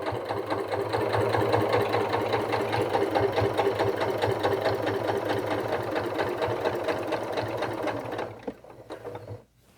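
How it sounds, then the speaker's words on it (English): A sewing machine stitches a Christmas stocking in one steady, loud, fast whirring run up close, slowing and stopping near the end. "and then I'm going to sew back down."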